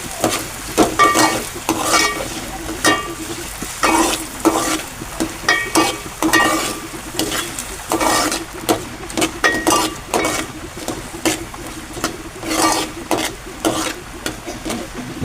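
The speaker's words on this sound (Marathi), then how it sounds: "परतून घेऊ कांदा" Onion sautéing in a pan until browned, with a steady sizzle of frying and a continuous run of stirring scrapes and light clinks of a spoon against the pan, loud and close.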